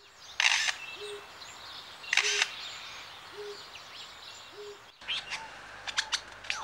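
A wild Australian bird mimics a photographer's camera, giving repeated sharp shutter-like clicks with short chirps between them, then a quick burst of clicks near the end.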